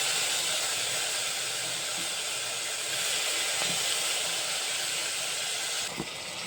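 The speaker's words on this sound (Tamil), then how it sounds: "கடுகும் உப்பும் போட்டு தாளிச்சிக்கிட்டு இருக்கிறேன்" Mustard seeds and salt sizzle steadily in a hot pan during tempering, a continuous hissing crackle with a faint knock near the end, no voices.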